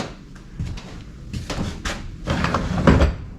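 A wooden shed door is opened and closed up close, making several wooden knocks, creaks and scraping thuds, with a firmer bang near the end.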